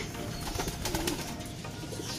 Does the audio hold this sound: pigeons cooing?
yes